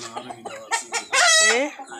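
A chicken being dunked in a bucket of water gives a few short, close clucks, then a loud, drawn-out squawk before settling back to quieter clucking.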